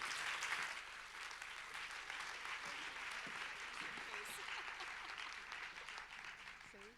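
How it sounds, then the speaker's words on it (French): An audience at a film forum gives even, continuous applause that is soft and somewhat distant, with a few faint voices underneath. "je vous demande aussi de l'applaudir"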